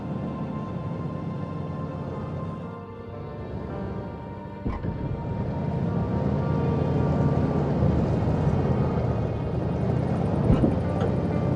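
Car driving in the survival video game DayZ, a steady loud engine drone with broad road rumble that swells slightly after a brief knock midway and carries on without pause.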